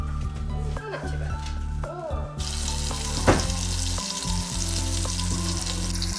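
Meat searing in a hot pan at home, a steady close sizzle and crackle of frying under a person talking, with a sudden louder hiss partway through.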